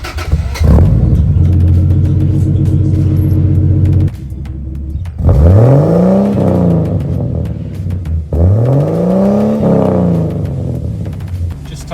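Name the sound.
big turbo 80 series engine with Screamer pipe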